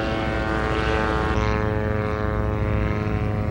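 A propeller-driven ultralight aircraft flies at an air show with its tail, wheels and nose gear gone, its engine giving a steady loud droning buzz with a strong harmonic whine throughout.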